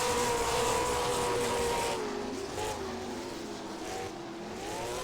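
Late model race cars at Auto City Speedway, a short track, drone past as a loud, close whine of engines whose pitch glides and shifts as the cars go by in a group.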